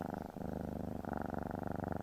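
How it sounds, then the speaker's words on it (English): A cat purrs close and steady on a rooftop, a continuous rumbling drone with an even, rapid pulse throughout, soft and unbroken by any other sound. "Batman slowly wakes up to the sound of purring."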